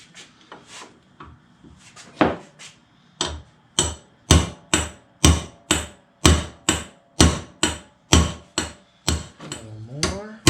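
A hammer drives a new hinge roller into place on a Trans Am, a few light taps and then a steady run of about fifteen sharp, evenly spaced metallic blows, close and loud.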